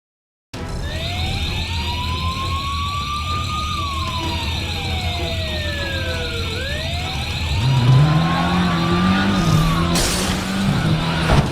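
Police sirens from pursuing cops in a Fast & Furious Crossroads car chase wail and sweep up and down loudly and continuously, with a deep engine roar swelling underneath toward the end.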